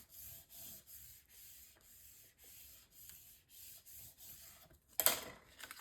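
Paper insert being burnished by hand onto a mini album page: a steady series of soft, close rubbing strokes in an even rhythm, ending with a brief louder scrape, no voices.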